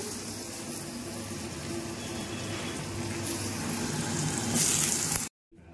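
Potatoes frying in a pan with panch phoron and dried red chillies for a pumpkin-potato curry, a steady close sizzle that swells slightly louder before cutting off abruptly.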